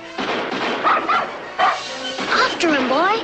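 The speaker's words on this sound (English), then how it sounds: "Old Thunderbolt's the greatest dog in the whole world." A dog barks and yips in an old cartoon chase, with excited voices calling out over the repeated barks and a whining, howling yelp at the end.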